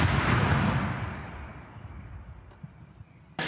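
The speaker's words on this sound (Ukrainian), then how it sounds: "Постріл!" A single loud artillery shot firing cluster munitions, a heavy boom at the start that rolls and fades over a few seconds outdoors, followed by quieter ambient noise and a brief rustle at the end.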